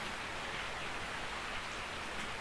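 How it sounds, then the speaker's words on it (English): Rain falls steadily in Resident Evil 3, a dense, even hiss of drops on surfaces with no breaks, fairly loud and close. "I woke up to the sound of falling rain."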